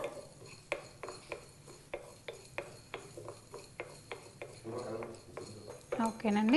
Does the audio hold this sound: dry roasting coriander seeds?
yes